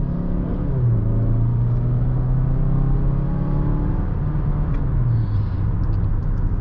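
A 2020 Mazda CX-5 pulls away from a stop, its engine rising in pitch as it accelerates beneath a constant loud cabin rumble and road noise.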